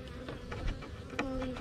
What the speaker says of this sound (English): Look, there's a ball of bees right there.